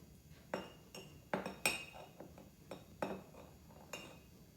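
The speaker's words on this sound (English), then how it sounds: "we get our ice cream scooper and we do 3 large scoops of the vanilla French ice cream into" An ice cream scooper works vanilla French ice cream into a glass, giving a series of sharp metallic clinks and scrapes in an irregular rhythm, close and fairly quiet.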